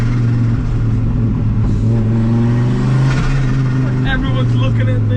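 A turbocharged 5-cylinder engine swapped into an Audi B5 S4 drones steadily and loudly from inside the car, with a hissing wastegate rising over it and light chirps near the end, while people talk over it.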